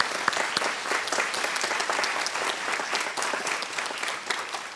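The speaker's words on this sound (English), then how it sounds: "So let's give Carrie a round of applause" An audience at a middle school band concert claps in sustained, dense applause that stays steady and fairly close for the full stretch.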